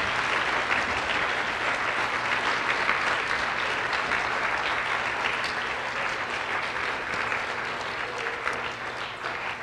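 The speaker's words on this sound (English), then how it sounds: "Let's give them a big round of applause." Banquet crowd at a sports awards dinner clapping in a sustained, even round of applause, moderately loud and continuous throughout with a faint low hum beneath.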